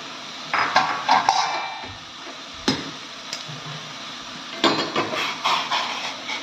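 Metal clinks and taps from a cooking pot of methi as a lid is set on it, several short knocks spread over a few seconds, close and with no talk.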